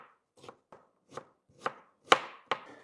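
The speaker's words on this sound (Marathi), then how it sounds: "आपण आता कांदा बारीक कट करून घेऊ।" An onion is chopped finely on a board with a knife in a home kitchen, seven distinct close knocks at a slightly uneven pace, growing sharper toward the end.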